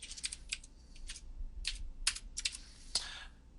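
Quick bursts of clicking on a computer keyboard, irregular keystrokes in short clusters, close but faint with no voices.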